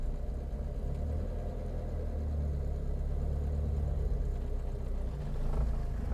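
A Citroën ID19 Safari estate pulls away, its engine a steady low drone that holds level throughout with a slight swell near the end, alone without talk.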